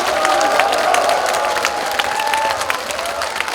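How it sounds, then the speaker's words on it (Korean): A political rally crowd at a lawmaker's report meeting in Yeongju, South Korea, bursts into loud, dense applause with cheering and whoops, sustained throughout, with a voice faintly audible underneath. "여러분 큰 박수와 함성 부탁드립니다."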